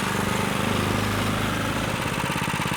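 A go-kart engine idles steadily with a hot plate mounted on its exhaust header, a continuous close, even drone and rapid low pulse with no speech over it.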